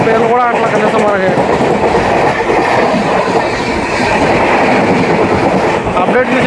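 Sapthagiri Express passenger train running at speed between Chennai and Tirupati, heard from on board as a loud, steady roar with rhythmic wheel clatter and brief squealing tones.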